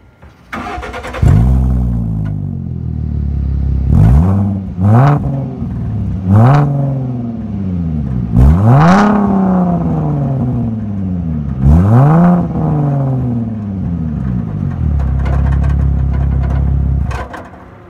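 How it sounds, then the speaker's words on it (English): A 2013 Ford Mustang with a 3.7-liter V6 and a muffler delete revving outside, with several loud, rising blips that each fall back to a throaty idle, close and continuous with no talk. "I'm going to do a couple revs and whatnot."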